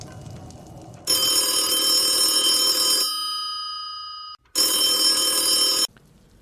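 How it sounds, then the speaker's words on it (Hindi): An old-style telephone bell rings loudly during an outgoing call, with a long metallic ring that decays into silence, then a second ring burst after a pause; faint background noise before and between the rings, with no talking. "मुझे पहले आत्म तत्व जी को फोन करना चाहिए।"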